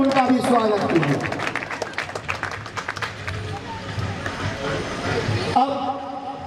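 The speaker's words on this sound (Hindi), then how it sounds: "जोरदार ताली बजा करके आप लोग उनका भी स्वागत कीजिए।" An audience at a public event claps loudly in a dense burst of applause that thins and then swells again, with voices and crowd murmur mixed in.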